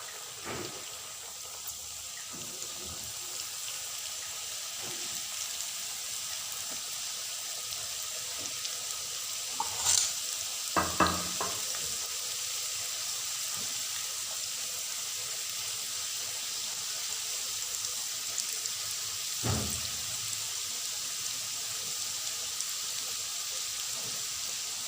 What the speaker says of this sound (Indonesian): Sekarang kita masukkan lagi, goreng sampai habis ya.